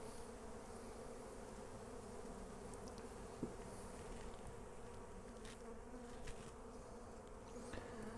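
Honey bees drone steadily during an open hive inspection while frames of honey, nectar and pollen are handled, a continuous soft buzz with a few faint clicks and knocks.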